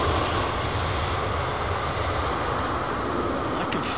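An airliner landing at London Heathrow Airport with a slight tailwind and crosswind, heard as a loud, steady, close jet roar that fills the whole stretch without a break.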